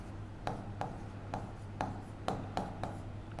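Chalk or marker strokes on a board during a lecture on Rajasthan's fairs and festivals, a series of short, sharp scratchy taps spaced irregularly over a steady low room hum, fairly quiet and with no talk.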